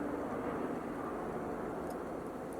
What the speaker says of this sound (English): Now there's a giant truck on the other side of me.